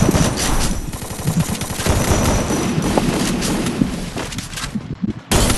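Rapid gunfire from a shooting video game, dense bursts of automatic fire filling nearly the whole stretch at steady loudness, with a brief drop near the end before shooting resumes.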